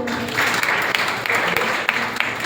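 An audience applauds to welcome a speaker onto the dais, a steady, dense wash of clapping that holds at an even level throughout.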